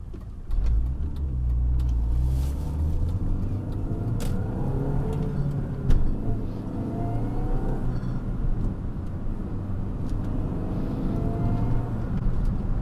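A 2002–2006 MINI Cooper S with a freshly replaced clutch revs steadily while driving, its mid-pitched engine loud and continuous for the whole stretch, with a brief surge partway through and road noise underneath.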